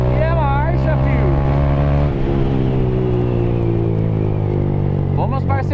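A Honda Titan 160 motorcycle fitted with a Fortuna exhaust runs loud and close while out on delivery rounds, a steady engine drone rising and falling through gear changes, with someone talking over it.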